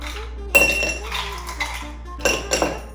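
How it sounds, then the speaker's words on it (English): Ice cubes drop into a glass mason jar with a few sharp clinks and rattles, one cluster early and two more near the end, with no talking. "go ahead and add some ice cubes"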